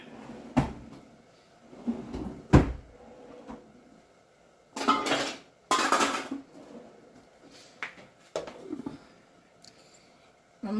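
A lid going onto a pot of simmering chayote with calabresa sausage: a few separate metallic clanks and knocks with quiet gaps between them, close and fairly loud.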